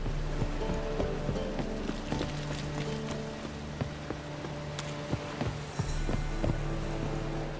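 Horse hooves clip-clop in The Witcher 3: Wild Hunt, a run of sharp, rhythmic hoof strikes over steady background music, with no talk.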